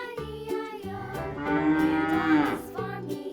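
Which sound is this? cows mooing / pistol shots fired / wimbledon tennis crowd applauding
cows mooing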